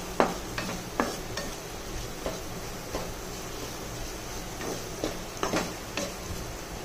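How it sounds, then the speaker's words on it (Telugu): Sliced bitter gourd fry, coated in coconut powder, is stirred in a pan over a low sizzle, with a spoon scraping and tapping the pan at irregular intervals up close. "దాన్ని మెల్లిగా పొడి మొత్తం వేసుకున్నాక ముక్కలకి బాగా పట్టేటట్టు కలుపుకోవాలి"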